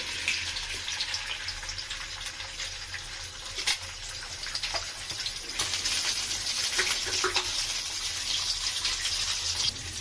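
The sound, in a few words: egg frying in hot oil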